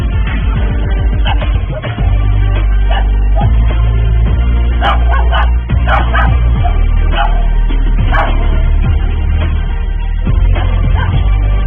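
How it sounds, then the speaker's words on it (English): A small dog yelps and whimpers in fear beside an injured man, with repeated high sharp cries over a loud, constant low rumble of background noise. "his loving pup yelps in fear as it senses something has gone terribly wrong"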